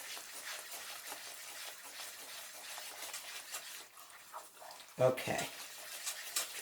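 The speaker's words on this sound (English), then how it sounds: "I'm going to stir it." Stirring a peach mixture as it cooks in a pan for vegan puff pastry, heard as a steady scraping, sizzling wash with a brief spoken word near the end.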